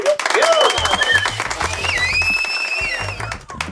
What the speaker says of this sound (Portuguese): Pode ouvir os aplausos